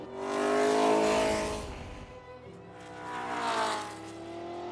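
Two 1.5-litre racing cars from The Grand Tour video game roar past one after another, their engines swelling loud then fading in two sweeping passes with a steady high whine.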